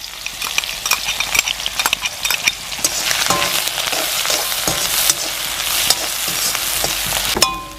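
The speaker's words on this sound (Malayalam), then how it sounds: "ഇനി ഇതിലേക്ക് ഒരു സബോള ഇടാം, കൊത്തിയരിഞ്ഞത് കേട്ടോ." Chopped onion sizzles steadily in hot oil in a pan. A loud, continuous frying hiss is broken by frequent scraping and tapping as a spoon stirs the pan.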